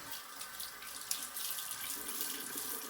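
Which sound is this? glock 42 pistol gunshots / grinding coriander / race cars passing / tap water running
tap water running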